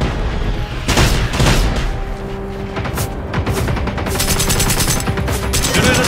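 Gunfire in a tactical shooter video game: loud, dense bursts of rapid shots and booming impacts, repeating almost without pause through a continuous, noisy battle.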